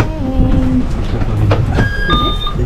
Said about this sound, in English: We are here inside a train.